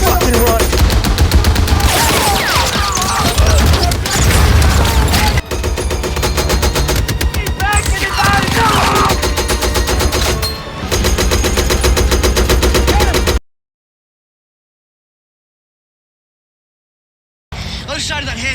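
World War II small arms fire in war movie scenes, dense bursts of machine-gun and rifle shots with loud fusillades, mixed with shouting voices and battle noise, cut off by a brief silence before resuming.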